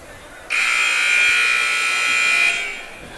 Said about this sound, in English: And there's the official buzzer to get things going here.